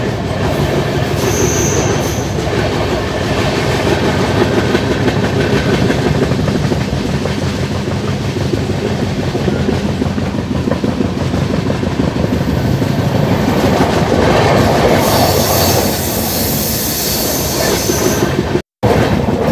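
Rajdhani Express train on the Ranchi route running on rails, a loud continuous rumble with rhythmic clickety-clack and wheel squeal rising toward the end, heard from on board.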